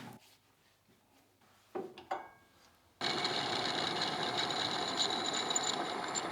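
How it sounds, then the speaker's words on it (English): A lathe turns stainless steel, starting with quiet workshop clatter and a few sharp knocks before the machine spins up into a steady, loud whirring hum that continues to the end. "This stainless really didn't want to turn nicely, but I did make it work."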